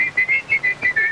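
A short, bright whistled phrase of several clipped high notes in a bouncy rhythm, close and clear, from a 1930 Fleischer Studios Betty Boop cartoon.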